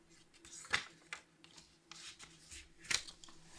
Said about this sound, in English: Making all this noise, all this paper rumbling